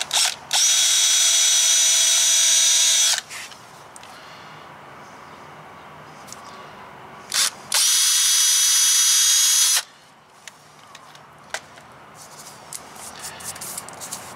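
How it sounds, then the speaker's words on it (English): A power drill pre-drills two holes through a teardrop trailer fender during installation, running in two steady bursts of about two and a half seconds each, loud and close, with quiet shop handling sounds in between. "we're going to go ahead and pre-drill the 2 holes that we marked"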